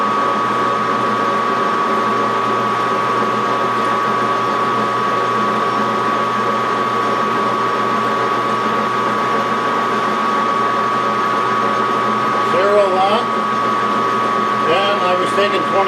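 Steady loud whine of a metal lathe running while cutting a Morse taper, a constant drone with a pitched tone throughout, with brief chirps near the end.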